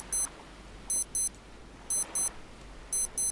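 Quiet high electronic beeps in the survival game Stranded Deep, sounding in repeated pairs at roughly one-second intervals, with nothing else prominent.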